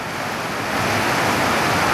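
Rushing mountain river in Pirassununga, Brazil, a steady broadband roar of turbulent water that swells slightly after the first second, continuous and close with no voices.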